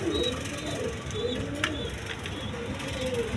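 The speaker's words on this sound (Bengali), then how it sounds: "এখানে এক পেয়ার দেখেন কবুতর আছে আপনার, বিউটি কবুতর" A pair of beauty pigeons, a male and an exhibition female, cooing nearby in soft repeated throaty coos over a quiet background hum.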